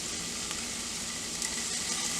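Minced garlic hits a pan with a little olive oil, producing a soft, steady sizzle close up with no talking.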